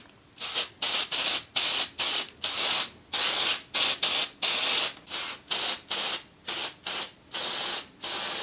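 Short, repeated hissing bursts of an aerosol can of test smoke sprayed toward a smoke detector, about fourteen evenly paced sprays, close and fairly loud with brief gaps between them.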